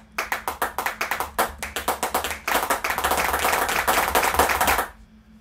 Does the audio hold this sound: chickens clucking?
no